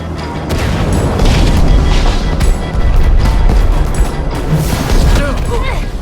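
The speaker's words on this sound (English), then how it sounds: "Fireworks! Good thinking, Lucas!" Fireworks exploding in the Minecraft: Story Mode game, a dense barrage of loud booming bursts and crackles lasting several seconds, close and continuous.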